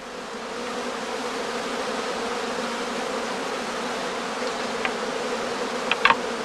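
Emerging bees of a prime swarm in a heathland skep hum in a dense, steady drone that stays loud and even throughout, with a few faint clicks near the end.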